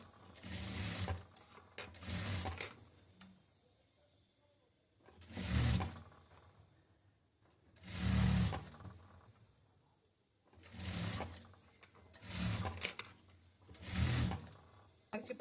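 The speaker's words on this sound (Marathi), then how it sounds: "हे मी तुम्हाला दाखवण्यासाठी स्टिच मारत आहे" A domestic sewing machine stitches a katori blouse in six short bursts of whirring needle runs separated by pauses, close and moderately loud.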